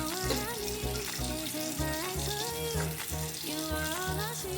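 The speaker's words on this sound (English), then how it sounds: "Let's get this water going," Water from a tap runs steadily into a sink while it warms up, a continuous close splashing stream over a soft indoor background.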